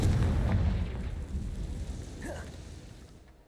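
A Confringo spell explosion in the Hogwarts Legacy video game: a deep booming blast that starts loud and rumbles, then slowly decays, with a faint whooshing effect near the end.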